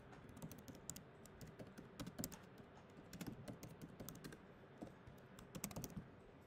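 Steady typing on a computer keyboard, with quick irregular clicks and taps close up that keep going without a break and no voices over them.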